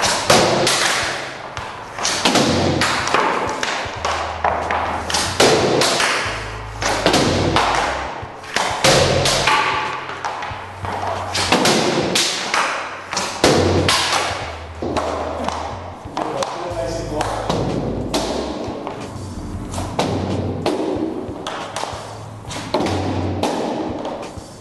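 Hockey pucks are shot repeatedly on a shooting training surface, producing a steady series of sharp thuds and slaps at irregular short intervals, with talk faintly mixed in.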